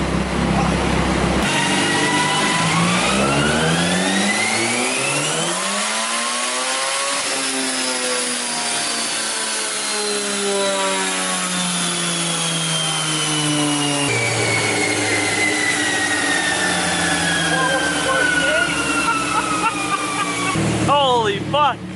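A turbocharged Mazda 3 running on E85 fuel screams through a dyno pull, its engine note sweeping steadily upward in pitch, dropping as it shifts, then climbing again, loud and close for the whole run.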